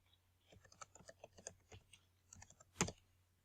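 Fingers type on a computer keyboard in a quiet, close run of irregular key clicks, ending with one louder sharp tap, with no talking.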